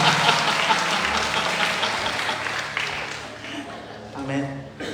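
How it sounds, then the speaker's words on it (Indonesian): A church congregation breaks into applause, a dense wash of clapping that starts full and gradually thins and fades, with some voices mixed in. "Tepuk tangan buat Tuhan."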